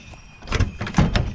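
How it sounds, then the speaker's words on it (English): Door of a 1973 Chevrolet Nova being forced open, a few close heavy thunks and scraping clunks in quick succession. "I guess the door didn't really want to open very well"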